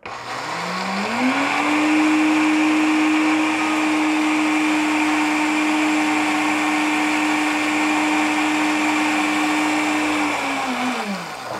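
A Walita RI2242 blender motor spins up grinding grains, holds a steady loud whining grind for about ten seconds, then winds down, with no talking.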